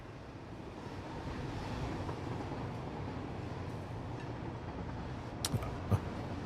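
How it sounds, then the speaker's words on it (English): A train in a factory-building video game rumbles steadily as it pushes the player along, a continuous low rolling hum with a couple of brief clanks near the end. "We've been pushed by a train for a little bit."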